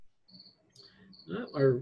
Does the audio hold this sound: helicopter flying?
no